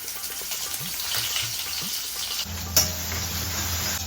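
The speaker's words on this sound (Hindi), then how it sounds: "इसमें हम छौंकेंगे लौकी" Steady sizzling of bottle gourd frying in a pan, with a brief clink partway through and a louder hiss taking over near the end.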